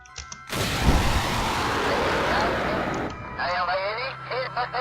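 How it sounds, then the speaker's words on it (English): A rocket stage jettisoned in Kerbal Space Program, a sudden loud roaring burst of noise that holds steady for about two and a half seconds before cutting off, after which someone talks over a low hum. "I'm going to hit the spacebar to get rid of this stage"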